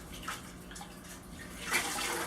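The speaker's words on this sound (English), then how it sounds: "I'm going to dunk it in the water now, give it a little bath, keep those roots moist" A bonsai Japanese maple root ball plunged into a water bath, giving soft sloshing and gurgling with a brief louder splash near the end.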